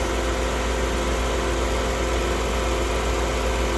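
A 2007 Buick Lucerne engine runs steadily at 2,500 RPM, a constant loud hum and drone with no change in pitch.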